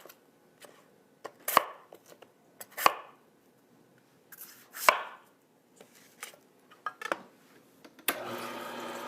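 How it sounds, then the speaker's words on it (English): A knife chops green apples into chunks on a cutting board, giving sharp, irregular thunks and crisp cuts spaced a second or so apart, close and distinct, ending in a brief rustle. "I'm going to cut them into chunks so that they fit through the chute of the juicer."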